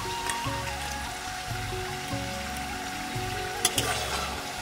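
Flattened rice (chire) frying in hot oil for homemade kurkure, a steady close sizzle and crackle running throughout, with occasional stirring clinks and a brief sharper scrape near the end.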